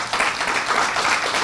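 A short burst of steady applause, many hands clapping together in a dense, continuous patter.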